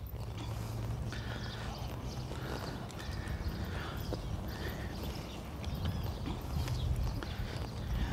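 Horse hooves clip-clop at a steady walk during a reining training session, with an even, continuous rhythm at moderate distance over a low background rumble.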